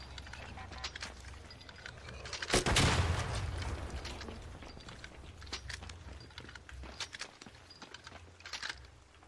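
Gunfire in a video game: one loud burst of shots followed by a long decaying rumble, then scattered quieter pops and footstep-like clicks.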